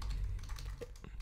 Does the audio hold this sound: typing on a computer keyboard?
yes